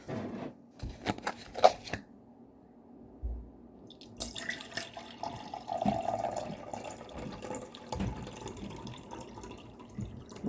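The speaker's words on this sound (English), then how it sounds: "Now, I'm going to pour this lemonade" Lemonade pours in bursts into a cup, splashing and trickling, with clinks and rustling handling noises between pours at close range.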